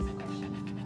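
An injured stray beagle with a limp pants quickly and steadily at close range, a short run of breathy huffs with no talk over it.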